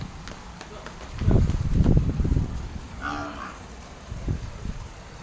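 A buffalo being bathed with water from a pump motor on a farm lows deeply in a few bursts over a steady rush of running water, with a brief voice in the background.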